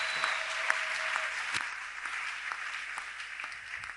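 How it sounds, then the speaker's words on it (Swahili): Church congregation clapping in praise of the Lord, a steady, fairly loud wash of many hands with a few sharper individual claps standing out, continuous throughout. "Chapie Bwana makofi."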